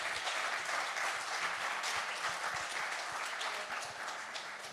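An audience at a technical talk claps in a steady burst of applause, fairly distant and even, tapering off slightly at the end.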